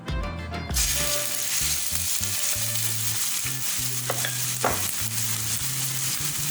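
Finely chopped medium onion sautés in oil in a pot on the stove, a dense steady sizzle that starts up after a brief quieter moment, with occasional spoon scrapes.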